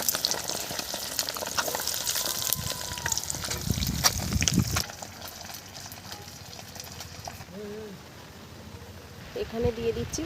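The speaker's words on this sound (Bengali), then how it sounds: "এখানে দিয়ে দিচ্ছি ফোড়নে 2টো শুকনো লঙ্কা, আর এখানে দিয়ে দিচ্ছি এলাচ, লবঙ্গ, দারুচিনি, স্টার।" Dry red chillies, cardamom, cloves, cinnamon and star anise fry in hot oil, giving a loud crackling sizzle with stirring clatter at first that settles into a softer steady fry, with a voice speaking over part of it.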